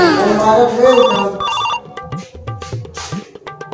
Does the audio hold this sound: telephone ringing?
yes